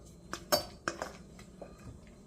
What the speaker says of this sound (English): And now we're going to add the